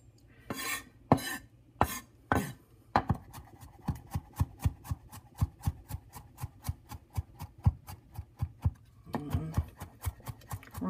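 A knife chops food on a cutting board in a home kitchen while Greek bolognese is being prepared, with a few slower strokes and then a long run of quick, evenly spaced, close taps.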